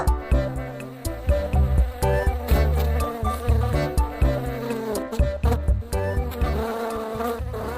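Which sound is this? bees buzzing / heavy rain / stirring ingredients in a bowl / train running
bees buzzing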